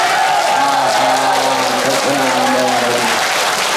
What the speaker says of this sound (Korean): 지금이 좀 낫다 라는 분만 박수 한번 쳐주시면